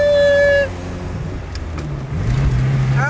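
Chevrolet Chevette engine pulling uphill with a slight misfire, a steady low drone that swells louder toward the end, with brief tonal sounds at the start.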